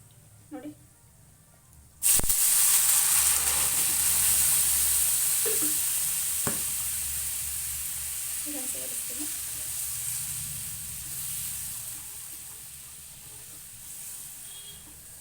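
Ground coconut dropped into a hot pan of moong dal halwa mixture, setting off a sudden loud sizzle that slowly fades as it is stirred, with occasional scrapes and a voice talking over it.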